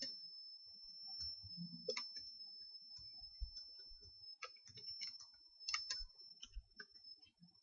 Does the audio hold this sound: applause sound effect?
no